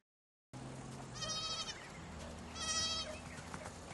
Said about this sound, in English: Oh, the goat.